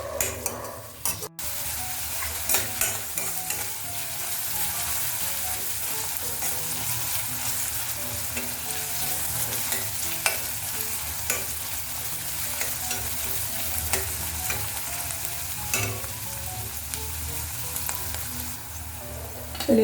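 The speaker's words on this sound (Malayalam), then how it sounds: "സവാള ഒന്ന് വഴന്ന് വരട്ടെ." Onion sautés in cooking oil for a chana masala, giving a continuous close sizzle that lasts about twenty seconds, broken by occasional stirring and light clinks of a utensil in the pan.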